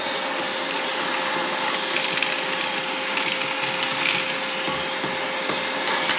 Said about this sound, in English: Got the Milwaukee backpack vacuum coming in clutch right now